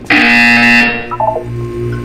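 Harsh electronic buzzer from the Portal 2 video game, one loud sustained blare lasting under a second, followed by a few short electronic blips.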